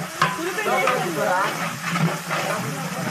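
Onions sizzle and fry in a pan while a spoon stirs them, making a steady hiss broken by soft scraping strokes throughout.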